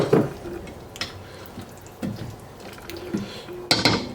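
Soaked beans tipped into a cooking pot, a string of wet clatters and hard knocks against the metal, spaced irregularly and fairly loud, ending in a sharper clink.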